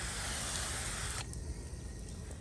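A steady, hissing spray of liquid onto a boat hull runs for over a second, then cuts off, leaving quieter background noise.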